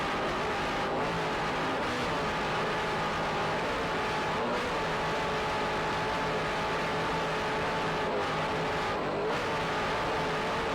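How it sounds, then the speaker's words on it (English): A 28-foot offshore racing powerboat with two 550 hp Zool racing engines and Mercruiser drives roars at full throttle during the 1993 U.S. Offshore World Championships in Ft. Lauderdale, a loud, unbroken engine drone with slight surges throughout. "powered by two 550 horsepower Zool racing engines with Mercruiser drives"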